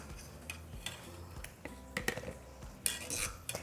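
Boiled chiles being moved from a pot into a blender cup for salsa, with soft clinks and scrapes of utensils against pots and dishes, scattered irregular knocks close by and quiet throughout.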